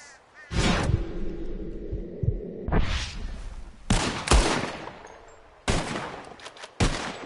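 A series of loud, spaced-out pistol shots at bottles in a PS4 video game, about five or six blasts with reverberant tails and short quiet gaps between them.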